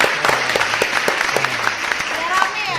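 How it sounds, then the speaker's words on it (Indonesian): Audience clapping at a financial education and investment seminar, a short burst of sparse, uneven claps over a few seconds, close by, with a voice speaking over it. "Sekali lagi tepuk tangan."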